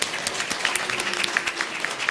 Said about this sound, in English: let's give Dennis another round of applause for that beautiful sermon